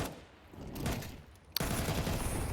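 UMP gunfire in Counter-Strike 2, rapid bursts of shots amid busy match sounds, fairly distant and mixed with other game noise, with a sharp crack partway through.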